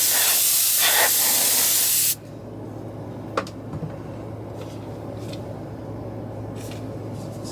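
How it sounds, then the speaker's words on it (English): Spray bottle misting a MacBook Pro 16 M1 before a protective skin is applied, one loud sustained hiss for about two seconds, then quiet handling noises and small clicks. "Again, I'm gonna give it a spray."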